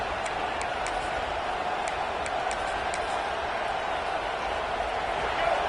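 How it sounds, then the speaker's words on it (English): A stadium crowd in the Madden football video game roars in a steady, distant wash, with faint scattered ticks on top and no break in the noise. "This crowd, full throat, splitting the eardrums and letting them know it's going to be a long day."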